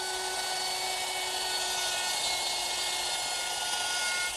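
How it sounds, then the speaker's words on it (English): A router fitted with a dovetail bit cuts a dovetail into a wooden chair seat, giving a continuous high-pitched whine with a steady cutting hiss, fairly close and unbroken, with no talking. "Using my router, which is equipped with a dovetailing bit"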